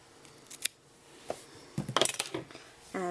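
Scissors snip yarn ends on a crocheted cutout cloche beanie, a few sharp close clicks followed by a quick burst of rapid snips, with faint handling noise and a brief voice at the end.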